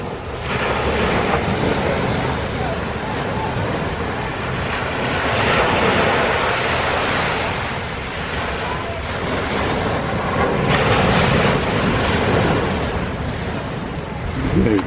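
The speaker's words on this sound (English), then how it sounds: "Some big waves today." Big ocean waves at Laguna Beach roll and crash in broad surges, swelling and fading with heavy wind buffeting the microphone throughout, the surf loud and close.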